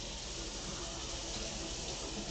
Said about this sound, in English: I will rinse this off so it has time to dry before the cookies need to be rolled and cut